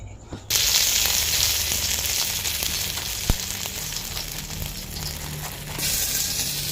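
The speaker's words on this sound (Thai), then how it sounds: "นี่จะผัดเครื่องแกงนะครับ" Thai curry paste stir-fried in hot oil for a fried-fish dish, a steady close sizzle and crackle running throughout with occasional scraping stirs and one sharp clack, no voices.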